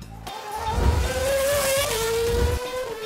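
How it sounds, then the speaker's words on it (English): Formula One cars from Mercedes GP and Scuderia Ferrari roar through cordoned-off city streets in Rotterdam's downtown, a loud continuous engine wail with shifting pitch as cars pass close by, tyres faintly squealing on hot asphalt. "Mercedes GPs and Scuderia Ferraris roared over the cordoned-off roads."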